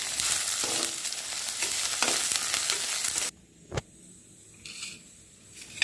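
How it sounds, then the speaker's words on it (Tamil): Ivy gourd (kovakkai) frying in oil in a pan for a Chettinad dish, a loud steady sizzle for several seconds that drops away abruptly, leaving a sharp clatter and faint residual sizzling. "கோவக்காய் வறுத்து அதுலேயே கொஞ்சம் எண்ணெய் இருக்குது"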